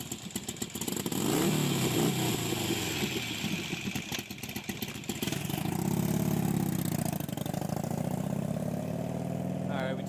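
A motorcycle engine runs close by, idling and revving in uneven surges for the whole stretch while people talk over it.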